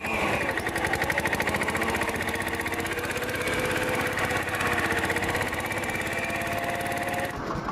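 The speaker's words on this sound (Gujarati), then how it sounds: "તો હાલો હવે ટ્રેક્ટર લઈને આપણે નીકળી જઈએ તો વહેલા પૂગી જાય" A farm tractor engine runs at a steady idle beside a cumin field, a close, continuous mechanical chug with a fast even pulse that holds for several seconds before cutting off abruptly near the end.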